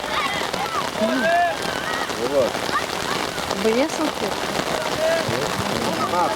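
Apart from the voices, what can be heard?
heavy rain downpour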